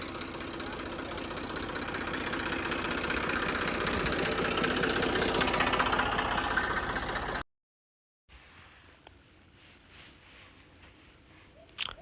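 A Massey Ferguson 7250 tractor fitted with a hydraulic plough idles and chugs steadily for several seconds, then cuts out abruptly; faint ambient noise follows with a brief knock near the end.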